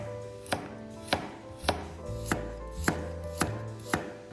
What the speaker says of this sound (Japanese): 人参ときゅうりを切っていきます